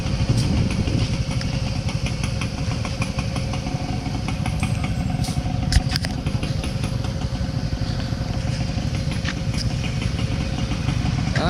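Several motorcycles idle nearby on a ride out to Lian, Batangas, giving a steady, loud, clattering engine rumble that runs unbroken for the whole stretch.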